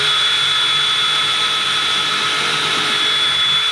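A power drill runs steadily and loud throughout, boring holes through a template held in place on a keezer build, a continuous high whine with no pauses.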